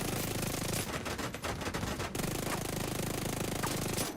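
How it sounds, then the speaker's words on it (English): Dense, continuous automatic gunfire in a Brooklyn street-combat video game, loud and close throughout with overlapping shots and a brief dip midway, no talking. "I can't shoot through the fence."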